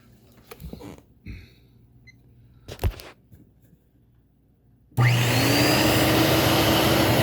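A Dirt Devil 7200 vacuum cleaner switches on after some quiet handling noises and then runs loud and steady with a constant roar.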